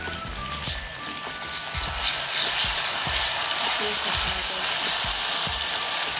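Onions frying in oil with ginger, garlic and green chili paste stirred in for a chicken and chickpea curry, a steady loud sizzle with a few soft stirring clicks underneath.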